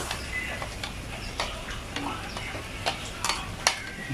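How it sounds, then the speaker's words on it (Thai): Coarsely pounded garlic, shallots and pepper stir-fry in a pan, making a soft, steady sizzle broken by irregular spatula taps and clicks, fairly quiet and close. "เอาลงไปผัดก่อนจ้ะผัดให้ก็หอมก่อน"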